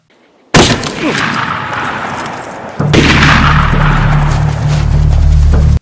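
A gunshot in a film hits as a sudden loud blast, then gives way to a sustained noisy roar that surges louder partway through and runs on to the end.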